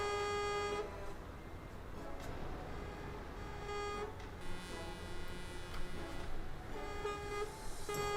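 Truck and car horns honking in Euro Truck Simulator traffic, several sustained toots repeating in bursts over a steady engine hum, moderately loud and close.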